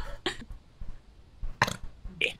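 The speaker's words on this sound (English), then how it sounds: "I got the scaredy burps." A gamer playing Phasmophobia lets out several short, rough burps in quick uneven bursts, close to the microphone and fairly loud against a quiet background.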